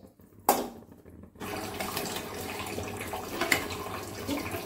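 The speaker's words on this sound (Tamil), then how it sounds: "புளி ஊற்றிக்கலாங்க." Tamarind water pours into a cooking pot in a steady splashing stream after a brief splash and pause, fairly close.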